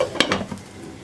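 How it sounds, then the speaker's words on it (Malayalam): A spoon stirring papaya thoran in a pan, giving a short scraping swish with light sizzle, one brief stroke followed by quieter rustling. "നന്നായിട്ടൊന്ന് ഇളക്കി മിക്സ് ചെയ്ത് വീണ്ടും എല്ലാം ഒരുമിച്ചാക്കി വെച്ചിട്ട്"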